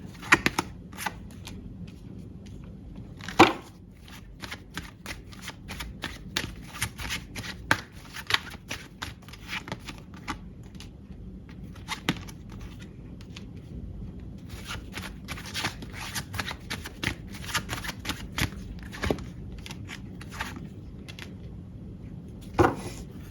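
Tarot cards shuffled by hand, a steady run of close, crisp papery riffles and soft taps with sharper slaps now and then, continuing without speech.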